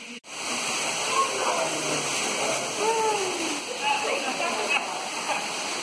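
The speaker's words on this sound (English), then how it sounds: "we're at the waterfall" Water pours steadily at a waterfall inside Carter Caves, a constant rushing hiss echoing in the cave chamber, while people talk faintly over it.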